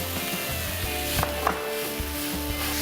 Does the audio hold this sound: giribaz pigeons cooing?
no